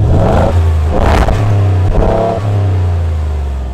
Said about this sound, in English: All Roush F-150s are equipped with a V8 and it rumbles through a Roush Performance exhaust